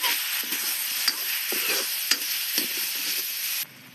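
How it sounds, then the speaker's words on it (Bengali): Potatoes tipped into onions already frying in a pan in an Indian village kitchen, giving a steady close sizzle broken by a few sharp stirring scrapes before the sound drops away near the end. "পেঁয়াজটা ভাজা হয়েছে, আমি এখন আলু দিয়ে দিলাম"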